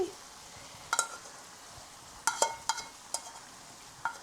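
Jamaican ackee and saltfish cook in a pot with a soft, steady hiss, broken by a few sharp clinks and scrapes of a spoon against the pot, close and with no talk.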